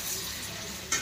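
Chicken frying in oil with turmeric in a pot, a steady close hiss and sizzle with faint stirring scrapes throughout, alone without talk.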